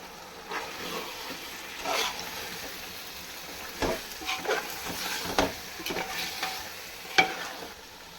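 Chicken pieces frying in a pan of softened tomato masala for Eid chicken dum biryani, a steady sizzle broken by repeated scraping stirs, the strokes bunching up and growing louder toward the end.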